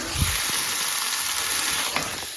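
Potatoes frying in an oiled pan seasoned with asafoetida give off a steady, close sizzling hiss, with a few soft low thumps near the start and midway.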